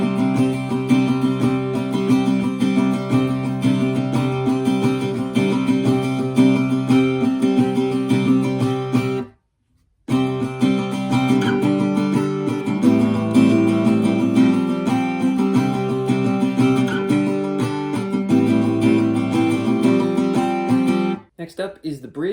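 Acoustic guitar strums through the second chorus of a song, old phone pub version, dense and steady with a brief full stop near the middle before resuming and then cutting off at the end.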